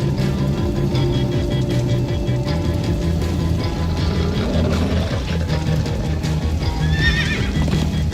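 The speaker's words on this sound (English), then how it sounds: "Slow down, horse!" Horse in the Minecraft Story Mode video game whinnies and gallops with steady clip-clop hoofbeats, loud and continuous under a busy game soundtrack with no talking.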